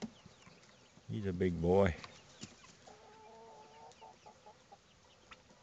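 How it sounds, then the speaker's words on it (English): An Americana rooster crows once, loud and close, in a brief burst; someone speaks quietly in the clip, with faint clucking and coop noise in the background. "That's the Americana rooster."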